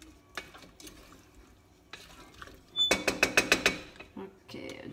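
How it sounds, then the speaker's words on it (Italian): Food being stirred in a pan on a home stove, a burst of about six sharp, rhythmic scraping strokes against the pan rising clearly above quieter kitchen background, with faint sizzling before and after. "Mescoliamo, mescoliamo bene."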